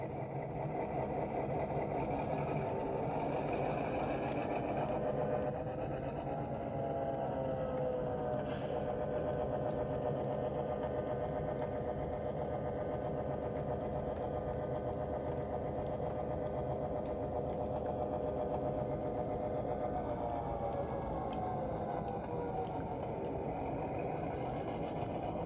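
A SoundTraxx sound decoder reproduces an EMD 567 diesel locomotive climbing back up a grade, a steady droning engine rumble with layered harmonics that holds at an even level throughout, with no voices.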